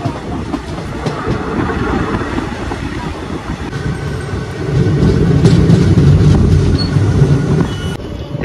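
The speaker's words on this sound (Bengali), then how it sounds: "112 কিলোমিটার ট্রাভেল করে আমরা এই নবদ্বীপ ধাম ঢুকছি" Teesta Torsha Express train pulling into Nabadwip Dham station, a steady loud rumble of carriages on the rails that swells and grows heavier in the second half, with faint clatter and no talk.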